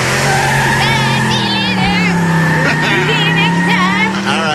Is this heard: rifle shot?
no